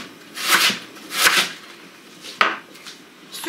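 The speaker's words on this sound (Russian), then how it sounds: "Режу просто ножом, шинкую." A knife shreds cabbage on a cutting board in a home kitchen, making two long rasping slicing strokes followed by a sharp chop and a few lighter cuts, close and fairly loud with no talking.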